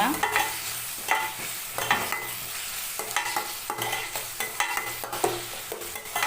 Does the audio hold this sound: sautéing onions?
yes